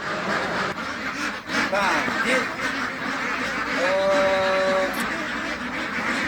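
Ducks on a duck farm quack several times in short bursts, moderately close, under someone talking steadily over outdoor background noise.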